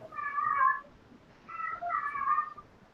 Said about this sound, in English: My friends had a cat that, when she was in heat, sounded like she was yelling a Raoul